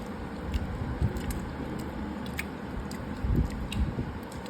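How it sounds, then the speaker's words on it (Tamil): Crispy fried sardines (mathi fish) are broken apart by hand in a string of small, close crunchy cracks and snaps over a steady background hum, with no talking. "பாருங்க மக்கள் எப்படி கருக்கு முறுக்குன்னு இருக்குன்னு பார்த்தீங்கன்னா சவுண்டு கேட்குன்னு நினைக்கிறேன்"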